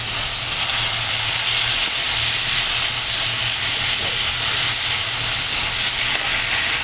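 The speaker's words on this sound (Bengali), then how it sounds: "এখন তেলটা গরম হয়ে গেছে আমি এর মধ্যে পাতাটা দিয়ে দিলাম" Taro leaves drop into hot oil and sizzle loudly, a continuous bright hiss with a low underlying bubbling that holds steady and close throughout.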